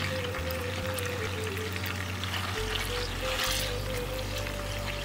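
Ayam pop chicken fries in hot oil with a steady, dense sizzle and bubbling, close and continuous, with a faint hum underneath and no talking.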